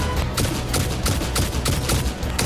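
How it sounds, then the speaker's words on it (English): Rapid bursts of gunfire in the video game Satisfactory, loud and close, with repeated shots in quick succession and no talking. "I might as well just shoot you over there too"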